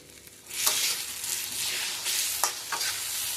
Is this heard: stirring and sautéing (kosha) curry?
yes